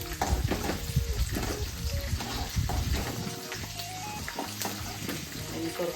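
Green chillies sizzle in hot oil with roasted peanuts in a home kitchen pan while poha is being prepared, a steady close frying hiss broken by stirring scrapes, with faint voices in the background.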